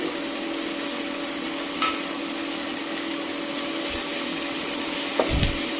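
Mutton with ground cumin and coriander stirred in a wok for a Bengali mutton korma: a steady oil sizzle with occasional scraping clicks from the spoon, close and even throughout.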